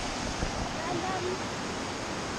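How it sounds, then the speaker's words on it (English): Waterfall in misty hills on the trek to Ghandruk, Nepal, heard as a steady broad rushing roar with no breaks, blended with wind buffeting the microphone. "it's misty behind me and that lovely waterfall"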